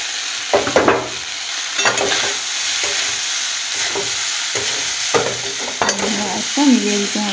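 Rice is stir-fried in a pan on a low flame for tangy-spicy chicken rice, with a soft continuous sizzle and repeated scraping bursts from the spatula, fairly close.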